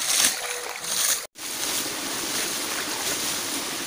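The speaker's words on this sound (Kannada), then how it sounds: "ಅಡಿಕೆ ಹಾಲೆಯಿಂದ ತಯಾರಿಸಿದ ಕಿಲ್ಲಿಯ ಮೂಲಕ ಈ ರೀತಿಯಾಗಿ ನೋಡಿ ನೀರಿನ ಅಡಿಕೆ ಮರಕ್ಕೆ ಎರಚುವಂಥದ್ದು" Water is splashed onto areca palms in an orchard with a scoop made from areca leaf sheath, giving a loud, steady, hissing wash of spray that breaks off for a moment, then continues without letup.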